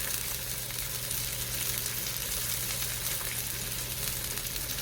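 A thick steak sizzles loudly and steadily on a hot griddle, a dense continuous frying hiss up close with no pauses.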